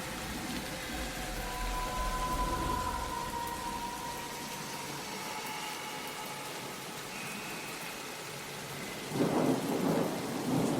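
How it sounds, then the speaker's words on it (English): Thunderstorm with steady heavy rain on surfaces, a low rumble of thunder building under the downpour and a louder crack near the end, with no voices. "It's a rainy evening in London"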